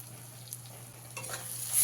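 Spice paste frying in oil for a koi fish curry, with a soft steady sizzle, a few light scrapes of stirring, and the frying swelling louder at the end, close by with no talk.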